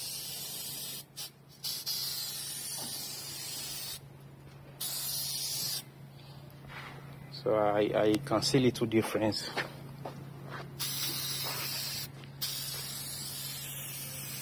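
An aerosol headlight restoration spray hisses onto a car headlight in repeated bursts of a few seconds each, close and steady, with someone briefly speaking between sprays over a constant low hum.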